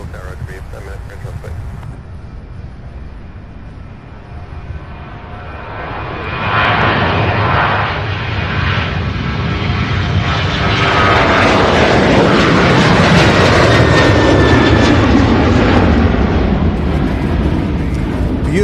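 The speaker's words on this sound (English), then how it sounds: "So 737 heading to Houston, getting ready to take off now." A Boeing 737 takes off from runway 35 left at Louisville, bound for Houston, its jet roar building steadily from a moderate rumble to a loud, sustained broadband thunder, with a voice talking at the start.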